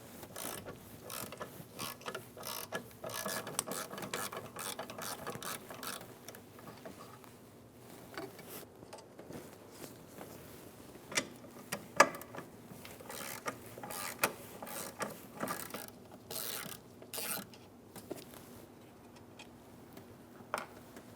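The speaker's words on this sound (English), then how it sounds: "Using a 13mm socket, remove the two nuts for the master cylinder." Ratchet fitted with a 13mm socket backing off the two nuts holding a brake master cylinder on a 2011-2018 Ram 1500, giving quiet, close clicking bursts in short irregular runs with pauses between, no voices.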